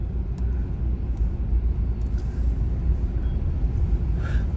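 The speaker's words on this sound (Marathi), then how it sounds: "हे बघा, हे बघा ट्रॅफिक बघा." Busy city road traffic in a jam, with a steady low rumble of many engines that is fairly loud and constant and has no talk over it.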